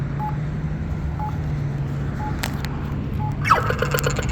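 A Campbell Wave accessible pedestrian signal crosswalk button at a street intersection gives a faint, regular ticking locator tone repeating about once a second, then a brighter electronic chirp sequence near the end, with steady traffic rumble underneath.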